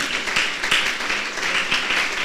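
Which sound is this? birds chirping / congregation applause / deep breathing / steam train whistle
congregation applause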